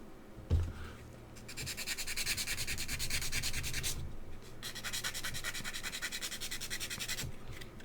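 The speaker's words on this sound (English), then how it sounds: "We'll sand one side of this one." A small 1/35 scale model truck part is sanded in two long stretches of steady, close scratching strokes, with a brief pause between them and a soft knock at the start.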